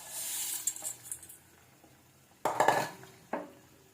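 Vermicelli is stirred into a pot of boiling water, with a faint bubbling wash broken by a few metallic scrapes and clinks of a spoon against the pot.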